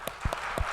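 A few scattered hand claps from a congregation during a church service, sparse and fairly quiet, lasting under a second.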